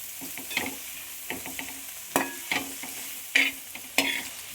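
Curry leaves hitting a hot pan of beans stir-fry, bursts of crackling sizzle with scraping stirs in an irregular rhythm, close and moderately loud, no voices.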